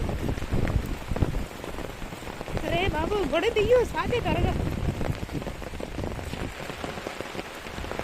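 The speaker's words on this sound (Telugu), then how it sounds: "వర్షం అయితే అస్సలు తగ్గట్లేదండి ఇంకా ఫుల్గా తడిచిపోయాము" Heavy rain pours steadily and loudly throughout, drumming on surfaces, while a person speaks briefly partway through.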